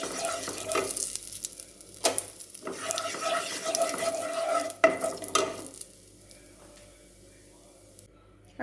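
Chili and coriander powder frying in a pan for Kerala-style palak paneer, stirred with a utensil in steady scraping strokes and a light sizzle, with a few sharp knocks, fading to quiet near the end.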